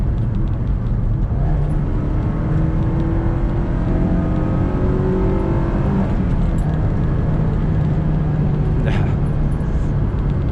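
Honda S2000 sports car accelerating hard through gears on a road near Horsetooth Reservoir, Fort Collins, Colorado, with a steady loud engine drone rising in pitch, dropping at a shift and climbing again, heard from inside the car.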